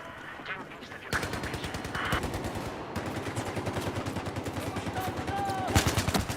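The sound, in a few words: machine gun fire in video game Battlefield 4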